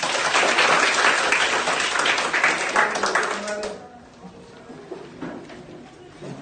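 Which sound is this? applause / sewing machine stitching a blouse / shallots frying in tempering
applause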